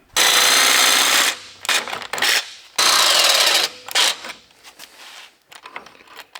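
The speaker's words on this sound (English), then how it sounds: "I'm just going to use a cordless jigsaw to cut that out." Cordless jigsaw with a dull blade cutting a notch in a wooden bed plank for a 1966 Chevrolet C-10 long bed: two loud buzzing cuts of over a second each, then short choppy bursts and rattles.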